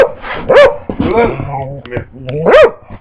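A dog barks and yips loudly up close, with two sharp rising barks and whining in between, while a person speaks over it.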